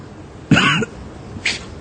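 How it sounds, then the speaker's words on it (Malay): A single sharp human cough bursts out close to the microphone, followed a moment later by a shorter, fainter throat noise, in an otherwise quiet room. "Tapi mulai saat ini you kena belajar bila batuk, dia tutup mulut."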